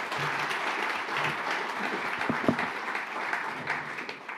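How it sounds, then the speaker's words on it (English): A conference audience applauds the Minister with dense, continuous clapping at a steady level, a few sharper claps close by amid the broad crowd noise. "Big round of applause, applause please, for the Minister"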